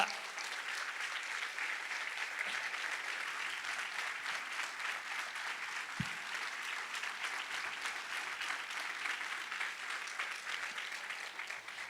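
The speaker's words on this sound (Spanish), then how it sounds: "Dame un aplauso fuerte al Señor" A church congregation applauds the Lord in a continuous, even wash of clapping that holds steady throughout, heard from a distance and fairly soft, with no clear speech on top.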